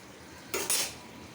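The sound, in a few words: covering the pot of puti fish with a lid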